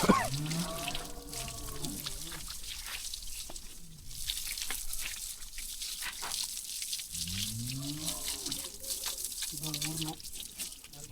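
A Mahindra Yuvo Tech Plus 585 4WD tractor being washed with water, a steady hissing rush of spray running throughout, with voices talking over it at intervals.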